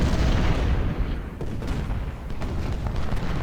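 Cannon fire from 12-pounder artillery in the Civil War strategy game Ultimate General: Civil War, a dense, continuous rumble of booming shots with sharp reports rising out of the roar, loud and close throughout.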